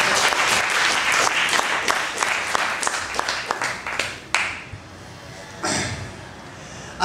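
A burst of audience clapping at a cultural salon poetry gathering, loud and close, thins out after about four seconds into scattered claps and a few thumps.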